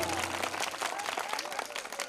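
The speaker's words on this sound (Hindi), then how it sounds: "पहले हमारे गुरु भाइयों के लिए जोरदार तालियां बजाएंगे" A crowd at a Hindu devotional night gathering (jagran) claps in a dense, continuous burst of applause with some voices mixed in.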